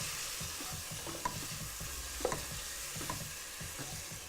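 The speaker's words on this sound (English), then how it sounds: "Okay, so now I'm going to add in the lamb that I cooked off earlier. So mix that through." Cooked lamb is stirred into toasted spices in a pan, giving repeated rhythmic scraping strokes with occasional utensil clinks over a gentle sizzle, close and fairly quiet, with no talk.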